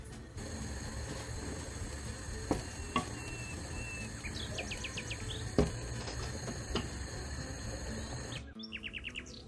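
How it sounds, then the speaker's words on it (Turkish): Steady frying sizzle and crackle of fried potatoes cooking in a pot of tas kebab, with occasional clinks and a few bird chirps in the background. "Şimdi içerisine kızarttığım patatesleri ilave ediyorum. 5 dakika kadar bu şekilde pişireceğim."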